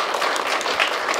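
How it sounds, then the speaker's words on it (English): Steady, dense clapping from an audience at an award ceremony honoring firefighters and medics who saved a cardiac patient, heard alone and close throughout a short burst. "If we can give them a round of applause."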